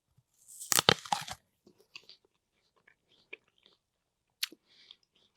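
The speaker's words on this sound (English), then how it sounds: "we're going to do a little biting the apple ASMR test" Someone bites into a juicy apple up close with a crisp crunch, then chews quietly, leaving scattered soft wet clicks and crunches against near silence.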